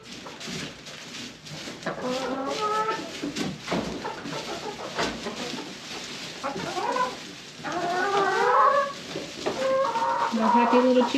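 Several chickens cluck and murmur continuously nearby in a coop, with soft squawks and chatter rising toward the end over a steady background hum.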